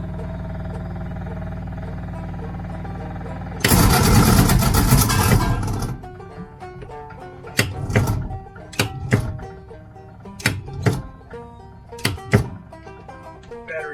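A 1950 Crosley Hot Shot car engine cranks with a steady starter whir, then gives a loud rough burst of a couple of seconds, followed by scattered mechanical clanks and bangs.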